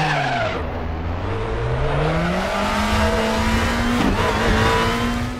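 A Volvo race car screams around Laguna Seca in RaceRoom, its engine note climbing steadily through the gears with a brief dip at a shift, loud and close with some tyre scrubbing underneath.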